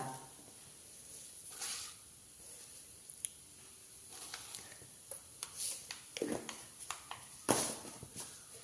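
Mustard seeds crackle in about three teaspoons of hot coconut oil in a pan, giving scattered sharp pops and brief sizzles that grow busier toward the end against a quiet background.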